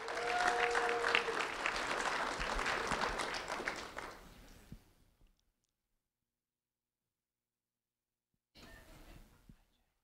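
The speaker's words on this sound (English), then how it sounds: "a round of applause for Jayla Battles, please." A school-award audience breaks into loud, sustained applause honoring a 6th grade student at a sheriff's office event. The clapping fades out after several seconds, followed by silence and then a brief second burst of clapping.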